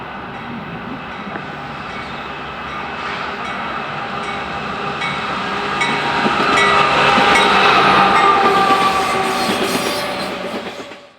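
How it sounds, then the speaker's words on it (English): Coal-loaded freight train led by a rebuilt Norfolk Southern AC-44 C6M locomotive rolling past, a heavy rumble building to a loud close pass with clattering wheels and faint squeals before fading off. "Coal loads bound for the CSX are next behind a rebuilt Norfolk Southern AC-44 C6M leader."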